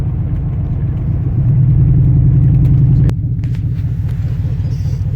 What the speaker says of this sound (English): spin some tires.